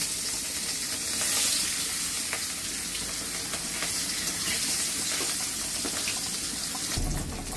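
Pieces of rui fish frying in hot oil: a dense, continuous close-up sizzle and spatter with a brief clatter near the end, no talking.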